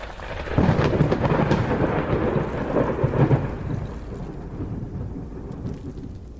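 Deep rumbling thunder sound effect for a Thunder Wave spell in a tabletop role-playing session, a loud rolling boom that swells early and then trails into a sustained, fading rumble with no voices.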